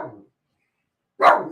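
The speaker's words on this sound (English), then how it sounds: "Ray, stop barking now." A dog gives two short, loud barks, close by and separated by a brief silence, with no speech.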